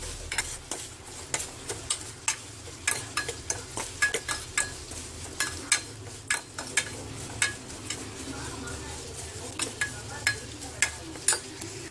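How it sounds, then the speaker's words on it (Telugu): Vermicelli frying in ghee until golden, heard as a low steady sizzle with frequent sharp scrapes and taps of a spoon against the pan, repeating irregularly throughout at close range, with no talking. "2 సేమియాను యాడ్ చేసుకొని దీన్ని గోల్డెన్ కలర్ వచ్చేదాకా వేయించుకుందాం."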